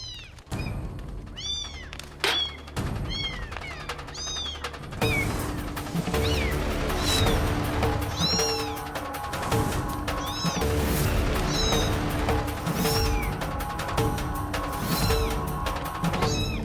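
Kittens trapped inside a clay pot set on a stove meow repeatedly in high, close, insistent cries. Dramatic music and occasional crashing thuds play underneath.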